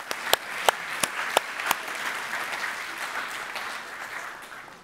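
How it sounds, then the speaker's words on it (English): Audience at a talk applauding a volunteer, starting with a few sharp, distinct claps that quickly blend into a steady, soft wash of applause heard from a distance. "A big round of applause for the money."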